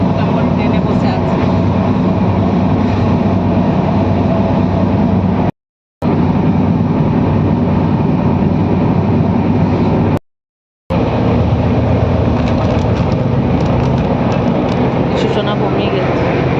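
Riding inside a train brings a loud, constant rumble of the moving carriage, broken twice by brief complete dropouts.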